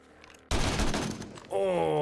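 Gunfire in the zombie survival game 7 Days to Die during a horde night, a loud dense burst of rapid shots lasting about a second, followed by a steady tonal hum.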